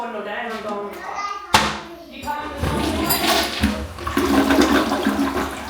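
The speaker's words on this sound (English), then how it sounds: "Not the greatest flush in the world." A hotel room toilet at Universal's Surfside Inn flushes with a sudden loud whoosh, then water rushes and gurgles steadily for several seconds, heard up close in a small tiled bathroom.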